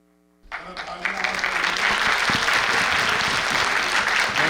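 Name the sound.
audience applauding at book launch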